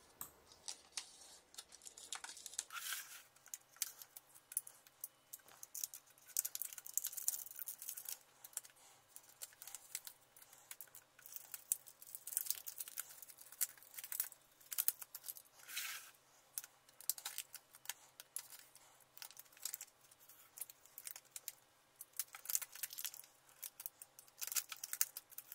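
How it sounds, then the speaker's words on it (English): Scissors snip through loose sheet paper at the corners of a table, making sharp, quiet clicks and crisp cuts in an irregular rhythm throughout, with no talking. "First, cut off the loose parts of sheet paper at the corners."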